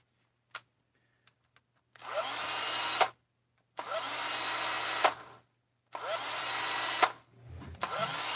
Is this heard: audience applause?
no